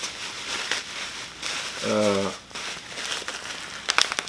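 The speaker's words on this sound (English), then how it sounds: "I'm having trouble to open this. I didn't pick my scissors, but it's well packaged." Crinkling and tearing of plastic packaging as someone struggles to open it, with a person talking over the rustling.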